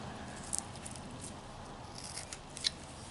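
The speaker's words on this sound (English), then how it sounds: "We're just going to cut that in there," A whittling knife cuts into wood for a Christmas ornament, giving a few faint, brief close scraping snips over quiet background, with two sharper clicks standing out.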